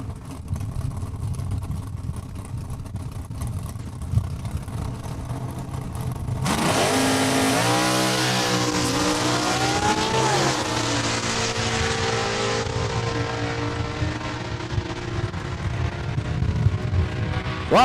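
Drag race at Saskatchewan International Raceway between a Plymouth Duster and a Corvette: after quiet crowd ambience, loud engines roar in at launch and hold a sustained, revving blast with shifting pitch as the cars run down the strip.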